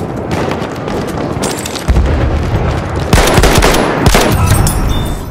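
Heavy gunfire in Battlefield 1, rapid automatic bursts with booming impacts and explosions, loud and close and running continuously with no pause.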